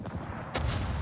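A 381 mm warship gun salvo booms in a World of Warships naval battle, a single heavy blast breaking in midway over ongoing rumbling game noise.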